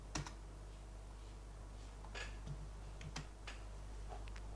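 Scattered, sparse clicks of a computer keyboard during Excel work, ending with a sharper Enter key press. The sounds are faint and close over a low hum, with no talking.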